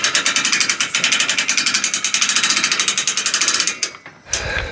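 Ratcheting clamp cranked on a jon boat trailer, a fast, loud, even series of clicks for about four seconds before stopping, close up with no talk.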